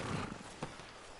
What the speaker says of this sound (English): I should really get on my horse.